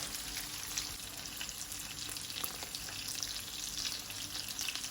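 Cheese slices frying in a pan give a steady, close sizzle with fine crackling and spitting throughout, with no voices.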